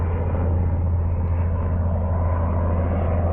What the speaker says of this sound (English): I thought that was a helicopter that take people out to the rigs